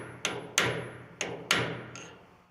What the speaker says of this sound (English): Strike the punch in the direction the bearing is turning.